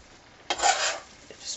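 A yam stir fry with chili flakes is stirred in a pan, making a short scraping swish of food moving against the metal over a faint sizzle, then a smaller scrape.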